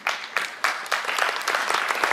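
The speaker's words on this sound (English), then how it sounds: "Give Lindsay a big round of applause for making this happen" An audience at a suicide awareness event applauds, the first few claps sharp and spaced before the clapping fills in into continuous, fairly close applause.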